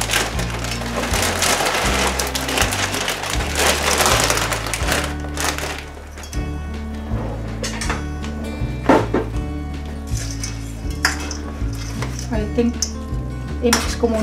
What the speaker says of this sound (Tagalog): I-mix ko muna ng konti ito para mag-reduce itong ating noodles